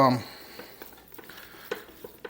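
Ground beef browns in a pan for hamburger soup, a low hiss broken by scattered spatula scrapes and light clicks, after a brief voice at the very start.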